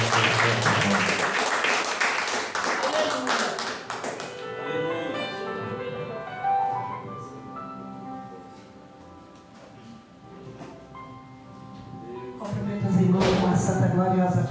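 A church congregation claps loudly for the first few seconds, and the clapping returns near the end, alongside sustained music and voices.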